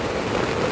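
Heavy rain falls steadily on an old tent at a campsite, a dense, even hiss with no breaks or talk across a very short stretch.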